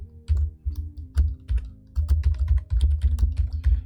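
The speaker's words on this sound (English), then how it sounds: "Make sure my typing is good and continue." Rapid typing on a computer keyboard while building a C# WinForms application, close and crisp, with irregular bursts of keystrokes and short pauses, no speech over it.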